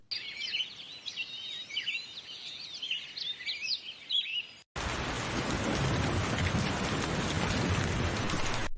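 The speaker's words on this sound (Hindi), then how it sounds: "लगातार बारिश हो रही है।" Birds chirp over a soft outdoor background, then steady, heavy rain abruptly takes over and pours continuously, loud and close.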